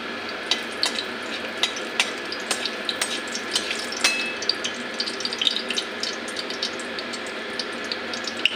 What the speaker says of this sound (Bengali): হালকা করে ভাজা করে নিই।